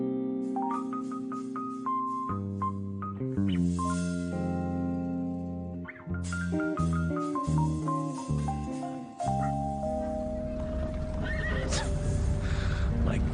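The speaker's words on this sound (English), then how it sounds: "My God. Horses everywhere." Horses neigh and their hooves clip-clop in a busy street scene, set against a tuned musical melody that plays throughout and ends in a noisy wash.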